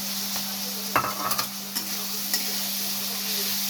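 Garlic frying in a pan for chilli chicken is stirred with a utensil, a steady soft sizzle with a few distinct scraping knocks over a constant low hum.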